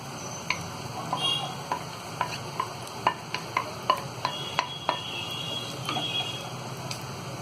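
A spoon stirs fried potato and cauliflower into sizzling masala for dhaba-style aloo gobhi, producing a quiet frying hiss with a steady series of sharp scraping clicks against the pan, close and with no talking.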